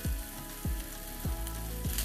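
Garlic and onions sizzle in a frying pan alongside smoked sausage and potatoes, a steady close frying hiss broken by a few low rhythmic thumps, with no talking.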